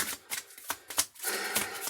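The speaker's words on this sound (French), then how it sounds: "ça vous amuse de me voir battre les cartes?" Tarot cards are shuffled by hand in a few quick, papery riffles and slaps, close and fairly soft, with short gaps between bursts.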